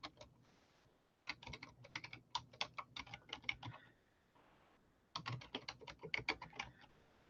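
Quick bursts of computer keyboard typing, close and crisp, in two rapid runs separated by a short pause, with no talking.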